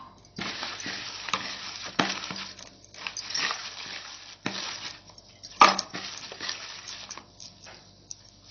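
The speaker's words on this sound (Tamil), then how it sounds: "கொஞ்சம் தண்ணி ஊற்றி மிக்ஸ் பண்ணிக்கலாம்." Spiced raw banana pieces are mixed by hand with a little water in a bowl, giving wet squelching and stirring sounds in irregular bursts with a few sharper clicks, close and moderately loud, no voices.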